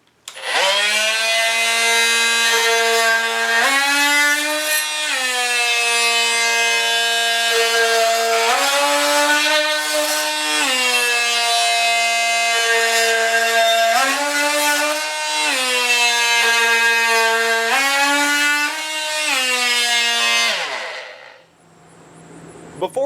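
A Hitachi CV18DBL 18-volt brushless cordless oscillating multi-tool cuts into wood with a loud, close, buzzing whine that rises and dips in pitch as the load changes, then winds down at the end.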